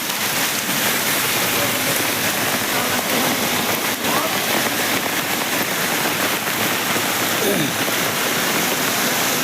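Heavy rainwater pours from both sides under a culvert bridge on NH 66 at Randathani, Malappuram, a continuous, dense roar of flowing water, loud and near, with a few faint brief tonal sounds above it.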